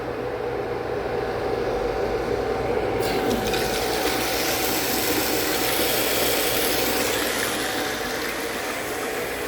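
A multistage motor pump runs after maintenance with a loud, steady close-up motor drone and a faint hum; partway through, a brighter rushing hiss joins and continues.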